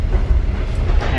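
A Russian train rolls along the rails in third-class sleeper service, giving a loud, steady low rumble with continuous wheel-and-track noise throughout, no voices.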